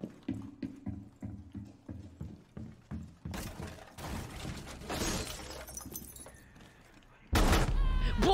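Window glass breaking in Rainbow Six Siege: rhythmic thumping gives way to a noisy crash with scattered debris, then a sudden loud burst at the end.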